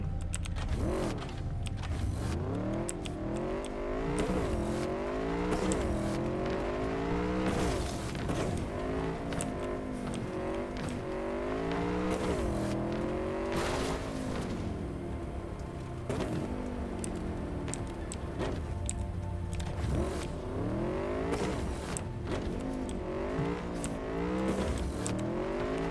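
Motorbike ridden off-road in the video game Cyberpunk 2077, its engine revving up and down in repeated rising and falling sweeps with clattering bumps, loud and close throughout with no talking.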